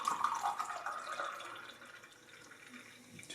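Ginger beer pours steadily into a glass of gin, a continuous liquid splash that is fuller at first and then thins to a softer trickle, heard alone with no talking.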